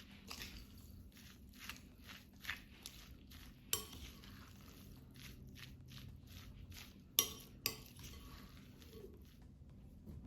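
Breadcrumbs and Parmesan cheese are stirred together in a bowl, producing soft, close scraping and gritty mixing strokes with a few sharper clinks of utensil against the bowl, with no talking.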